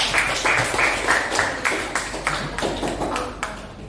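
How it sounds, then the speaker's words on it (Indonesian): In an Indonesian classroom lesson, students give the second group a round of applause: a few distinct, rhythmic claps repeated at a steady pace, fairly close and loud, with no talking. "Kita beri tepuk tangan untuk kelompok kedua"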